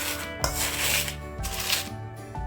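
Crisp fried edible gum (gond) being crushed and mashed for dry fruit laddu, giving a close, dry, continuous crunching and rubbing with a few sharper crackles, over soft background music.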